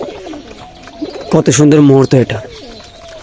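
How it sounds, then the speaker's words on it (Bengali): Pet pigeons coo while being fed, giving a loud, close burst of throaty cooing in the middle. A person talks softly before and after it. "নিজের চোখের সামনে এইভাবে নিজের শখের কবুতরগুলোকে খেতে দেওয়া"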